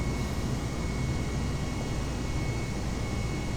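Airbus A320neo jet in EasyJet livery taking off in Microsoft Flight Simulator 2020, a steady, loud broadband engine roar holding constant throughout without talk.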